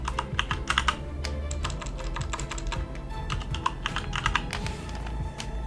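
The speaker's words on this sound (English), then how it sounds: "go ahead and click in the second one and type in view demonstrations" Fingers type on a computer keyboard in quick, uneven bursts of close clicking keystrokes with short pauses between, no voices present.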